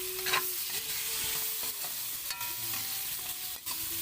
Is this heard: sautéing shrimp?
yes